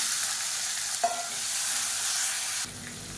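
Peeled small shallots and garlic cloves are tipped into hot oil and stirred, giving a steady close-up sizzle with a brief clatter as they drop in, then a sudden drop in level near the end.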